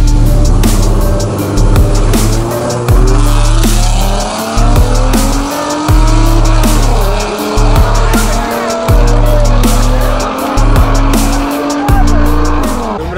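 A Ford Mustang racing at an illegal street meet in Astana, engine roaring loud and close in repeated bursts between gear shifts, with tires squealing and skidding throughout and faint voices in the background.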